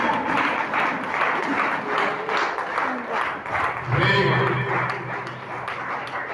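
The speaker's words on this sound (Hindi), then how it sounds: "गुरुजी का जोरदार तालियां बजा के स्वागत करेंगे खड़े होके साथियों" An audience at a Safe Shop business meeting applauds while standing to welcome a guru onto the stage, a sustained wash of clapping running under a loudspeaker voice talking over it.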